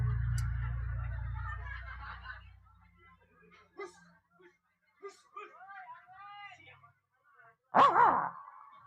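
Short yaps from a small dog come in scattered bursts, with a louder burst near the end, in a quiet indoor scene from a lenong folk theatre domestic comedy. A low hum fades out early.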